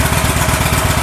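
A 2014 Victory Hammer 8-Ball motorcycle idles through an aftermarket Cobra 2-into-1 exhaust with baffles still fitted, a loud, close, steady low rumble with even rhythmic pulsing.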